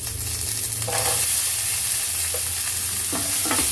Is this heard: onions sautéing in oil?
yes